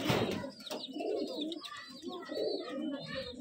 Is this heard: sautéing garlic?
no